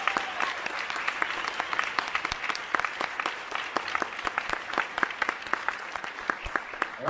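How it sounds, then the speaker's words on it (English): An audience at a high school band winter concert claps for the marching band students, with scattered sharp individual claps standing out over a moderate, steady round of applause. "So to give them a round of applause."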